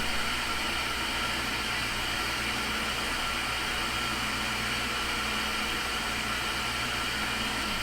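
An antique Axelson lathe cuts off a screw, giving a steady, loud, unbroken mechanical drone with a constant hum and hiss that holds at the same level from start to end, with no voices.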